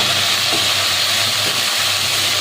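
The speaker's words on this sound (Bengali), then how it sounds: "ভালোভাবে ভেজে নেব চিংড়ি মাছগুলো" Prawns fry in a pan with salt and turmeric, a loud, dense, continuous hissing sizzle, close up and unbroken across the short stretch, with no voices.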